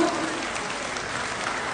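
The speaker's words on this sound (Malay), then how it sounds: "Boleh kasih tepuk tangan sekali lagi Bapak Ibu." Audience at a Malay Zapin dance performance hosted by the Indonesian embassy in Malaysia giving a round of applause, a dense, even burst of clapping that stays steady from start to finish.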